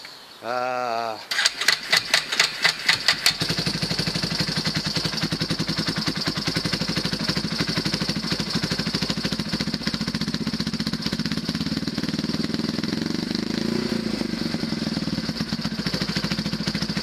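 A rebuilt Yamaha YFM350 Warrior ATV engine cranks with a few chugging pulses, catches, and settles into a loud, steady, rapid idle that runs on with a slight rise in pitch later, close by.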